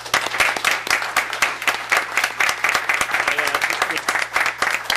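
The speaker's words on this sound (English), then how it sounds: "Please join me in giving them a round of applause" Town board meeting audience claps throughout, a lively roomful of hands producing steady, slightly pulsing applause at moderate loudness with no break.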